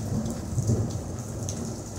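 Steady rain pours during a nighttime thunderstorm heard from a porch, with a low rumble of thunder rolling beneath the constant hiss of rainfall and no voices present.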